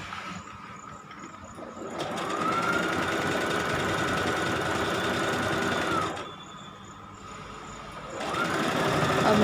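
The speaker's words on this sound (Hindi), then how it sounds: "अब मैं इसको चारों तरफ मशीन चलाऊँगी और मैं इसको चारों तरफ से अच्छे से सिलाई डाल दूँगी" A sewing machine runs continuously while stitching around the edge of a pinned blouse, a steady close whirring hum that drops briefly in the middle and then picks back up, with no talk.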